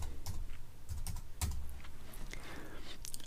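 Short runs of keystrokes on a computer keyboard while naming a layer comp in Photoshop, close and moderately quiet over a low hum, with scattered clicks and no speech.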